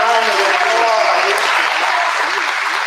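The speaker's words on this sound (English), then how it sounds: "let's give them a strong round of applause." Audience applause at a school geography challenge competition comes as a brief, even burst of many hands clapping together, close and full for a few seconds.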